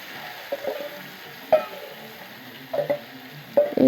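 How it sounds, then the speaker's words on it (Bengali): Marinated fish pieces fry in hot oil in a wok, a low steady sizzle broken by a few sharp pops and clatters as the pieces are moved, close by, no talking. "এখন হাতে মাখানো মাছগুলো তেলের সাথে দেওয়া হবে"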